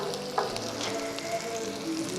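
Strips of round steak frying in a generous amount of oil for pepper steak: a steady, close hiss and crackle of sizzling with a few small pops and faint stirring scrapes.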